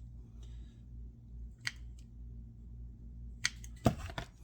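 Scissors snip through a paper plate in a few separate cuts, with sharper crunching snips near the end, close and fairly quiet, no talking.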